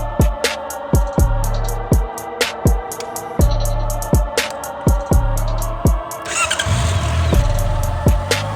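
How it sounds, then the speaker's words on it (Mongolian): A Honda CBR650R motorcycle cranks over in a long series of sharp, rhythmic starter bursts before the engine catches and runs near the end, loud and close with no talking. "Мотоцикл гоё нөө."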